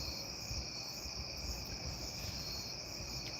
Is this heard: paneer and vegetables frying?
no